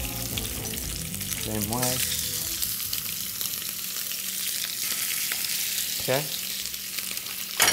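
Shrimp sauté in a hot pan with a loud, continuous sizzle. A couple of brief spoken words come over it near the end.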